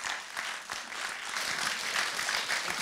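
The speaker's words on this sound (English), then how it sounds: "Round of applause for Kerry," An audience at a startup business event applauds a speaker named Kerry from a care services company, a dense, steady wash of many hands clapping at close range for about three seconds with no voices.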